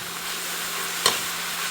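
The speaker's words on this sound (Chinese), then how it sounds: "把调料炒香" Seasonings of scallion, ginger, garlic, dried chili, soy sauce, salt and spices are stir-fried in a wok, giving a steady low sizzle with one brief clatter of the spatula near the middle, with no talking.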